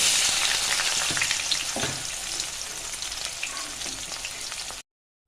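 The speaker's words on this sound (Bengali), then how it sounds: "এবার পেঁয়াজটা কিছুটা ভাজা হয়ে গেছে" Chopped onions sizzle steadily in hot oil with cardamom and cloves, with a few stirring scrapes, before the sound cuts off abruptly.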